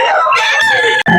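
A rooster crows loudly and close by in one strong, drawn-out call that breaks off sharply near the end, with no talking over it.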